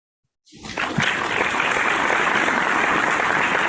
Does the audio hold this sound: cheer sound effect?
yes